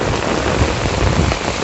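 Heavy rain pours down steadily and loudly outdoors near a plant nursery, a dense unbroken hiss of drops beating on surfaces with no pauses.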